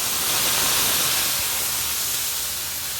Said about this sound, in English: I'm going to take my steak here and I'm going to place it in the pan.